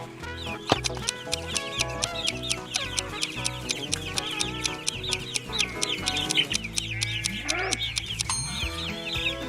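Chickens cluck steadily in a busy farmyard chorus, with sharp repeated calls rising over a constant background of hens.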